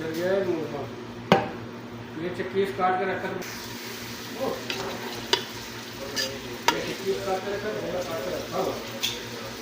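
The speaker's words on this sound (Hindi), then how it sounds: "ऑयल हमारा गर्म हो चुका है। अब हम शामिल करेंगे 2 अदद कटा हुआ प्याज।" Two medium onions, chopped, hit hot oil in a pan for an aloo matar curry, giving a steady frying sizzle with occasional sharp stirring clacks, heard beneath continuous talking.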